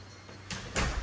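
A front door of a custom-built Carolina Stanley home opens with two quick, close bursts of latch and swing noise over a low room hum, with no one speaking.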